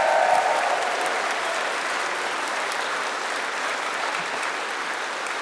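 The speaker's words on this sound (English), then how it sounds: "So can we give Kaylee a massive round of applause as well?" Applause from a musical theatre choir audience in Leeds for Kaylee, the person who registers and welcomes everyone; steady, dense clapping close by that carries on evenly throughout with no talking over it.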